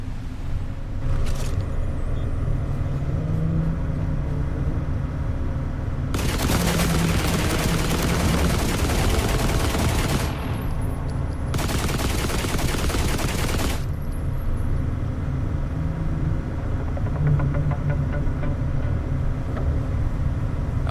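Bursts of sustained automatic gunfire aimed at a shark in The Last Caretaker, two long dense volleys of several seconds each over a constant low engine rumble, with a short crack early on.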